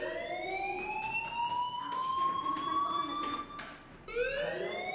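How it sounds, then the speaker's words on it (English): A school fire alarm in the video game Life Is Strange wails in rising and falling electronic siren sweeps, loud and continuous with a short dip before resuming. "Hey, do you hear that fire alarm?"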